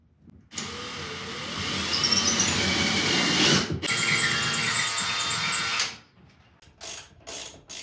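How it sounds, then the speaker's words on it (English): A power drill whines steadily for about five seconds with grinding mechanical noise while drilling pilot holes, then stops, followed by a few short bursts. "then I will pilot drill those holes so the legs start in the right spot"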